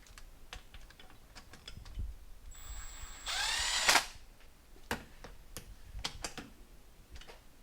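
A power tool briefly runs in a short burst, tightening bolts in a crisscross pattern on a 2014 Ford Focus ST during synchro replacement, surrounded by scattered clicks and taps.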